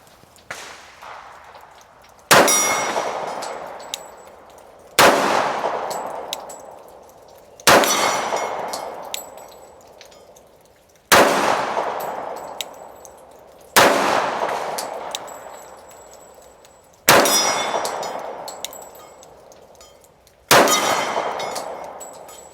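Rounds from a Ruger pistol strike a steel gong plate at a sportsman's club shooting range, eight loud ringing clangs spaced a few seconds apart, each followed by a long fading ring.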